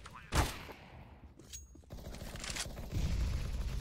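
AK rifle gunfire in a CS:GO match, one sharp burst followed by denser rapid spraying shots that swell toward the end, mid-distance under faint commentary and crowd noise.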